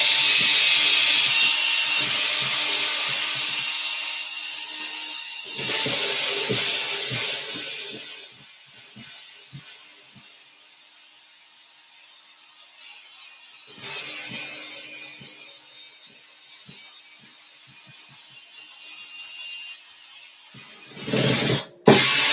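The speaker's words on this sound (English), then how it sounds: "We are going to get fancy again with the screwdriver, because I think these are going to come right out." A screwdriver backs out the screws holding an axle housing cover on a toy vehicle's front axle, giving two bursts of scraping, rubbing noise separated by quieter gaps and ending in a short sharp rattle.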